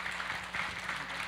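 Congregation clapping during a Friday testimony service at a church in Jeju, a brief even wash of applause with no voices over it.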